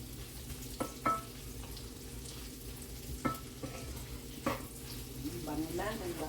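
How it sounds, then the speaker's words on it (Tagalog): Broccoli with garlic sautéing in a pan for breakfast fried rice: a steady low sizzle throughout with a few sharp clacks of a utensil stirring, close by, no talk. "igigisa ko muna. Kasama ang broccoli."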